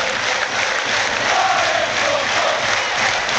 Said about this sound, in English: there's warm applause around as Banks heads off